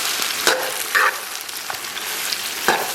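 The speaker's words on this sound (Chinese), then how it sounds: "然后咱们给它煸炒出红油" Doubanjiang bean paste stir-fried with scallion, ginger and garlic in oil over low heat for braised pork noodle topping, a steady close sizzle with occasional scraping stirs of the spatula, no voices.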